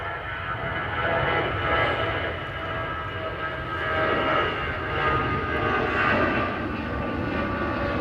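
An Airbus jet at the Toulouse factory gives a steady, loud engine roar with a broad rushing hum that swells and eases slightly over several seconds, heard without any talk.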